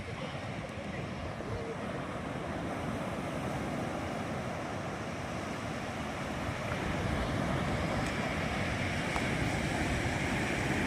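Steady roar of ocean surf with wind buffeting across the whole stretch, continuous and fairly loud, no voices.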